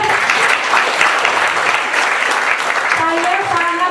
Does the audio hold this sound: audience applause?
yes